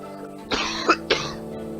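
Two close, sharp coughs from a person, one about a second before the other, each short and loud against a quiet room background.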